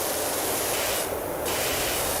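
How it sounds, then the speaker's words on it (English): Wide-spray pressure washer nozzle in the video game PowerWash Simulator, a loud, continuous broadband hiss of rushing water that briefly shifts in tone midway, with no talking. "hardest wide spray that I've got, I would say"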